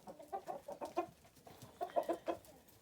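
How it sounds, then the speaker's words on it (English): Chickens on a farm cluck in short, repeated bursts as they are herded in for the evening, with two close clusters of calls separated by a brief lull. "Got all the chickens in."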